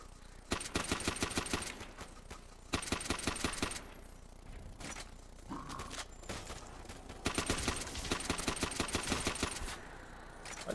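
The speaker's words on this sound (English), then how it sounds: "I do like this gun. I like the way it sounds." Rapid automatic gunfire in Call of Duty zombies mode: several long bursts of fast, loud shots with short pauses between them, then a final burst near the end.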